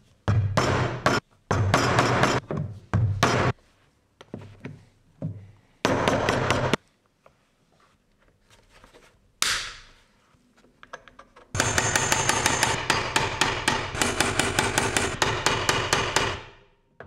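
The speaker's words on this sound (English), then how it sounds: "mount it with either two or with four rivets" Rivets are hammered into a leather strap for a leather toolbag, with loud, sharp bursts of rapid hammer blows broken by pauses and then a long, steady run of strikes near the end.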